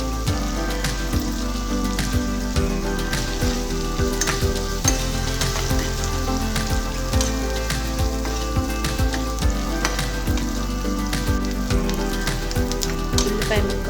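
Onion pieces fry steadily in a pan with curry leaves and turmeric, giving a loud, continuous sizzle and crackle with scattered pops and occasional stirring sounds.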